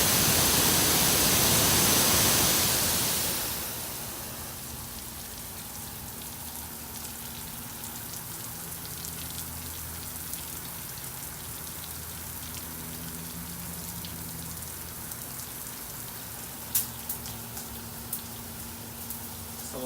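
A garden hose sprays water onto sticky notes stuck to wood, a loud hissing rush for the first few seconds, then settling into a softer, steady patter of dripping and splashing with a few sharper taps.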